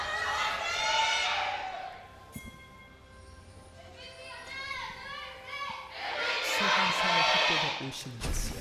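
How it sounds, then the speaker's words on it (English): Arena crowd at a League of Legends LCK Summer match between Ever8 Winners and MVP, cheering and shouting in loud swelling bursts that drop to a lull midway, then surge again strongly toward the end. "There's a little bit of a delay there on the MVP cheer"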